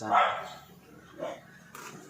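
A dog barks a few times at a distance, muffled as if from another floor, with a voice speaking nearby.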